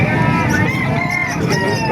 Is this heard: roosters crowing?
yes